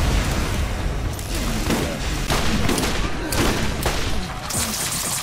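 Rapid bursts of gunfire from the Borderlands video game, with overlapping shots and booms in a loud, busy firefight.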